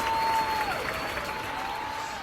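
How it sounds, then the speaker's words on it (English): Audience applause for a performance act, a dense wash of clapping hands that starts strong and eases slightly while staying steady, heard alone without talk. "Even the other acts were clapping wildly."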